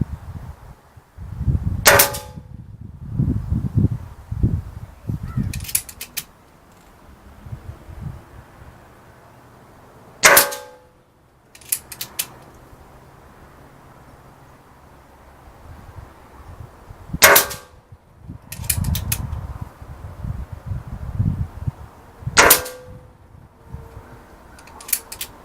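Diana Stormrider .177 PCP air rifle firing 7.4 grain pellets at a pink target: about six sharp, clean cracks spaced several seconds apart, each standing out over low rustling and handling noise, close by.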